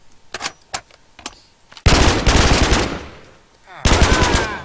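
A P90 fires in the Minecraft Flans mod: a few spaced single shots, then two loud sustained automatic bursts, close and harsh.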